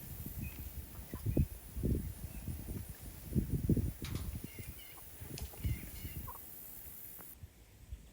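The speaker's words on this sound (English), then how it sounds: "I gotta try to get these chickens in." Low clucking and gobbling calls from free-range chickens nearby, irregular bursts over soft outdoor background, no talking.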